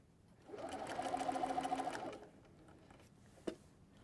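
A sewing machine stitches a soft baby blanket in one short, steady whirring run of close, even needle strokes lasting about a second and a half, followed by a single faint knock.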